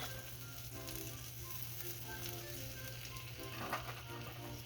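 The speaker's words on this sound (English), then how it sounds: "I'm going to add about 3 tablespoons of vegetable oil." Vegetable oil heating in a hot pan during family dinner cooking, a faint, steady sizzle over a low electrical hum, with a brief louder crackle near the end and no talking.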